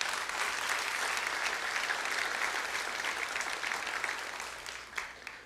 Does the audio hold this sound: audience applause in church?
yes